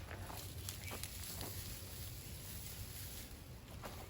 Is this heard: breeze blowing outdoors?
yes